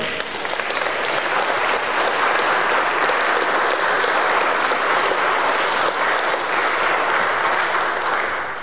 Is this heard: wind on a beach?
no